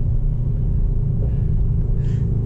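A Mercedes-AMG GT 63S in race mode gives a deep, loud, steady engine rumble from inside the car, thick low growl held throughout with no talk.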